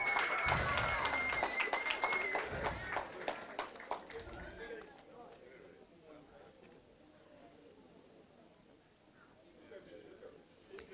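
Schoolmates at a reading competition applaud and cheer loudly at first, the clapping and crowd noise thinning out after a few seconds into murmuring and faint scattered sounds.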